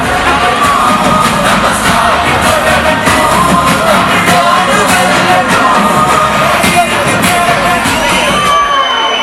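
A packed DMK conference crowd in Trichy roars in welcome for Minister Nehru, loud continuous cheering, shouting and clapping with voices mixed in, sustained at full intensity for the whole stretch.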